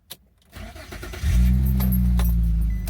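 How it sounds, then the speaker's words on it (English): An Infiniti G35 with a suspect weak battery, a soft click of the key followed by a brief crank and the engine catching, settling into a steady, loud, close idle hum. "Let's turn the car on."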